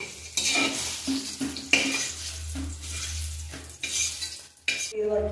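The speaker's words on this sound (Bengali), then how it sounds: "এই এরকম করে বেগুনগুলো ভেজে নিয়ে" Thick eggplant slices frying in oil in a pan, with repeated scraping stirs of a utensil against the pan over a bubbling sizzle and occasional metallic clinks.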